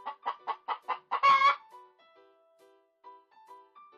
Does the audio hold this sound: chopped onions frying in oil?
no